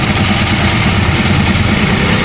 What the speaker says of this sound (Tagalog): maingay yung makina